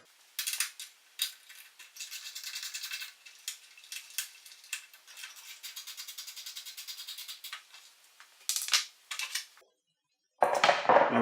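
A wrench works the 10 mm cover plate bolts on a Simplicity snowblower, giving rapid ratcheting clicks in uneven bursts, with close metallic ticking that stops briefly and then resumes.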